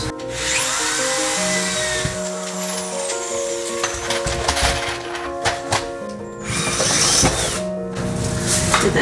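A power drill bores during a bus conversion while vinyl floor planks are being fitted, whirring in steady bursts at close range with tool clatter and handling noise around it.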